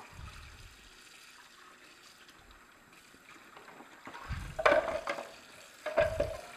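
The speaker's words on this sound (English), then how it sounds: "And I run water through this opening to get the last bits out." Water is rinsed through the feed opening of an Omega Twin Gear TWN32S twin-gear juicer to flush out leftover apple bits. A faint background hiss swells into two short, louder splashing gushes near the end.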